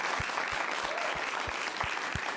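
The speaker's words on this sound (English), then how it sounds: "can we give a round of applause to One Buchanan for putting on this beautiful event?" An audience at an International Women's Day forum applauds in a steady, dense wash of clapping, with a few soft low thumps spaced through it.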